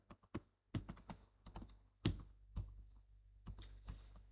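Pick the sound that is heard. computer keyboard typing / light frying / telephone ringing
computer keyboard typing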